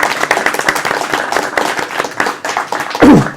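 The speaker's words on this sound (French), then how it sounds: "Je crois qu'on peut applaudir." Audience at a comic-book event applauding steadily throughout, a dense continuous patter of many hands clapping, fairly loud and close, with a brief voice near the end.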